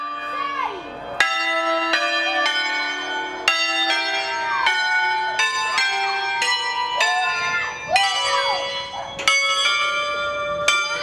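Church bells peal in a lively sequence of overlapping strikes at a national bell ringers' gathering in Casalecchio di Reno, Italy, ringing out loud and resonant with long decaying tones.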